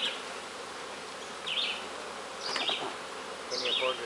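Honey bees buzz steadily around a beehive at an Ontario apiary during supering for honey production, with several louder passes as individual bees fly close by.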